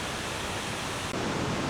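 Ramsey Falls, a 30-foot waterfall in Ramsey Park in Redwood Falls, Minnesota, gives a dense, unbroken roar of falling water, loud and steady throughout.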